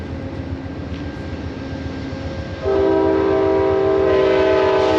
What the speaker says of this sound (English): apologies for the train noise just a minute ago